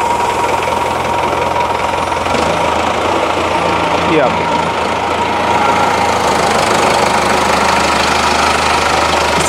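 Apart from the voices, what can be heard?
Sonalika DI-55 tractor engine running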